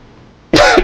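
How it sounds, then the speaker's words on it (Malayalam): A single harsh, loud cough bursts out after a quiet stretch, close to the listener, with a short raspy tail. "നശിച്ച ചുമ."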